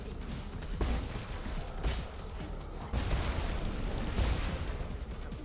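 Green explosion in the video game Nine Sols, a dense rumbling blast with several booming bursts and crackling debris, sustained at moderate level with no voices.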